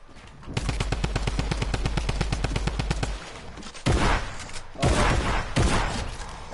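Rapid automatic AK rifle fire in a video game, a loud sustained burst of evenly spaced shots for about two and a half seconds, followed by a few louder, rougher bursts of shots and impacts.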